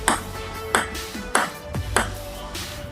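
A ping pong ball bounces five times at an even, unhurried pace, each bounce a sharp, close hollow tick with a faint ringing tone underneath.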